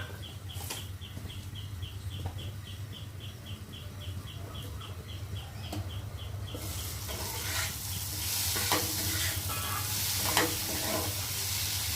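Potato pieces frying in a pan, a soft continuous sizzle with occasional stirring scrapes; a bird chirps repeatedly in the background for the first half.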